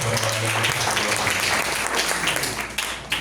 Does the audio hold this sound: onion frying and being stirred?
no